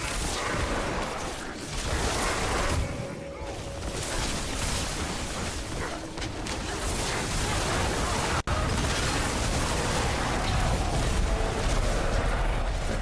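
Explosion in the video game Diablo IV: a loud, dense roar of blasts and rumbling booms runs continuously, broken by one sharp cut partway through.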